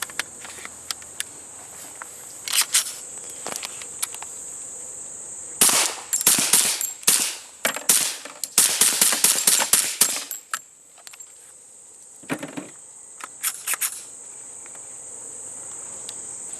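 Firearms fitted with suppressors fire outdoors in several rapid bursts of muffled cracks, some in quick strings, heard over a constant shrill chorus of crickets.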